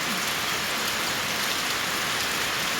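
Heavy rain from a storm in Laos pours down in a constant dense hiss, loud and unbroken with no voices.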